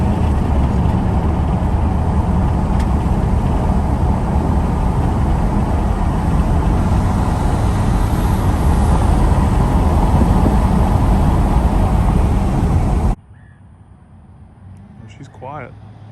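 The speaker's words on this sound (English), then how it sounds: "Roll this window down. You get a lot of wind noise, but you can't even hear this thing." A 2nd or 3rd gen Cummins diesel truck driving with the window down, with a loud, steady roar of wind and road noise that cuts abruptly to a quiet cabin near the end.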